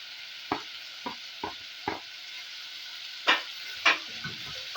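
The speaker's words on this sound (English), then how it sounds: "Give it a stir." Green capsicum and dania stalks being stirred into an egg stew, with a spoon scraping the pot in several separate strokes over a soft sizzle, close by with no talking.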